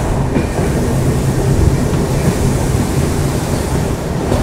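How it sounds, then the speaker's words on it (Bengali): A train rolls along the rails beside the Farakka feeder canal near the Farakka Barrage. It makes a steady, loud, broadband rumble that lasts throughout, with roaring water mixed in and no voices. "আর যাচ্ছে এই মুহূর্তে ট্রেন"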